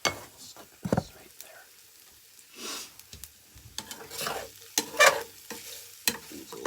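Food frying and sizzling in a pan while being stirred, for a barbecue dinner, with scraping and clinking strokes at an irregular pace over a steady close-up sizzle.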